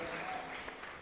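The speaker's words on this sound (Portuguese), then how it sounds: "uma calorosa salva de palmas" Church congregation at a Marian month evening service applauds the municipal guard, a brief stretch of steady, moderately distant clapping.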